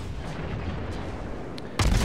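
In World of Warships, secondary guns fire at a ship from within 2 kilometers: a steady rumbling wash of battle noise, then a loud, sharp broadband blast near the end.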